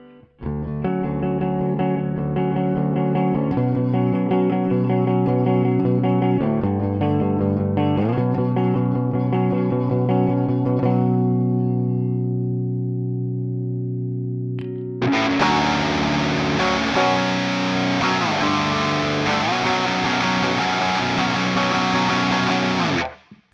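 Electric guitar on the neck pickup through a Line 6 Helix patch with chorus and tube echo, a sustained clean-ish chord passage that gives way to a loud, thick distorted section, played alone.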